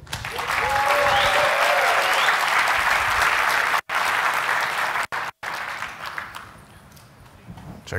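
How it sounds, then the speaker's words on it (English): Loud, sustained applause from a large conference crowd at KubeCon, dense clapping that holds steady for several seconds, briefly cuts out, then thins and fades toward the end. "let's give a big round of applause to our next speaker, Karl from Mesosphere."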